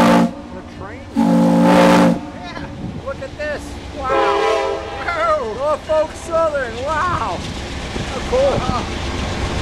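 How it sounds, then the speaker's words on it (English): A train rumbles across a bridge overhead as a paddle wheel steamboat passes beneath on the Mississippi, a loud blast of horn-like tone early on followed by steady rail noise under chattering passengers. "there's the train going over as we go underneath"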